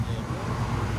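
Deep, steady rumble of a 1971 Buick Riviera 455 V8 with headers and a full Borla Pro-XS exhaust, loud and close, idling with a rising burst at the very end.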